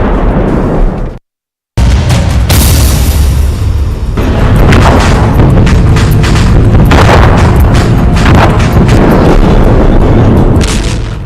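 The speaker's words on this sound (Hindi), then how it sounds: "यूक्रेन युद्ध के ये धमाके" Explosions from the Ukraine war: loud, continuous booming blasts and rumbling bursts, broken by a brief moment of silence, then a dense barrage of heavy impacts and crackling that carries on without pause.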